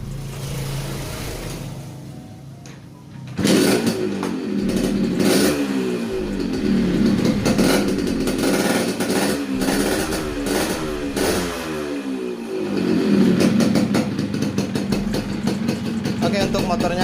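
A Yamaha RX King motorcycle, just repaired for an oil leak at the cylinder head, fires up after a quiet moment and settles into a steady, burbling idle with small revs, close by and loud.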